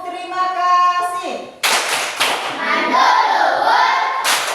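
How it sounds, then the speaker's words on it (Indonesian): Schoolchildren in a primary school classroom doing a rhythmic thank-you clap, with sharp claps and thumps coming in a patterned burst after a short stretch of sung or chanted voices, close and fairly loud. "Mari kita tepuk terima kasih untuk teman kita."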